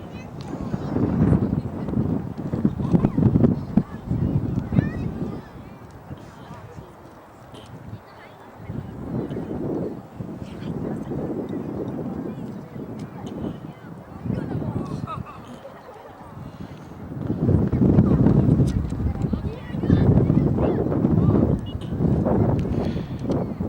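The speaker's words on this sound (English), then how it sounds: "the wind now really picking up here" Wind gusts buffet the microphone at an outdoor under-11 boys' football final, rising and falling in heavy rumbling surges over the 23 seconds while a commentator talks throughout.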